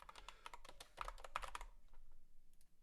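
Rapid typing on a computer keyboard clatters close and quiet, a quick run of keystrokes that fades into sparse taps near the end.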